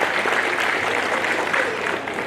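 An audience at a state-level award ceremony honoring Yashwantrao Chavan applauds together in a steady, even wash of clapping that fades slightly toward the end, with no one talking over it.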